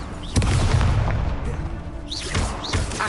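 An Incendio fire spell cast in Hogwarts Legacy bursts with a sudden deep whoosh and boom, followed by a crackling roar that fades, then a second softer flare with small whistling magical tones near the end.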